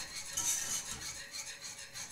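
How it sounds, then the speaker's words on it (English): A whisk scrapes steadily through a cheese sauce as white cheddar and Parmesan are worked in for Kentucky Hot Browns, a continuous close, soft metallic swishing with no voices. "we're just gonna whisk it together until it's nice and smooth"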